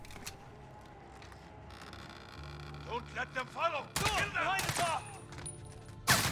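Gunfire rings out in the Call of Duty: Modern Warfare campaign as a player shoots enemies, with several sharp, loud shots and bursts in the second half, under someone talking in Polish.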